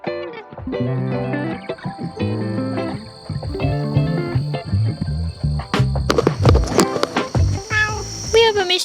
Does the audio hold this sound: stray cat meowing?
yes